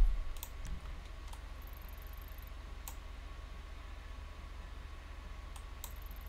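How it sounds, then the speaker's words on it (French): Sparse, faint mechanical keyboard clicks, a few isolated keystrokes at irregular intervals over a steady low hum. "C'est un clavier mécanique"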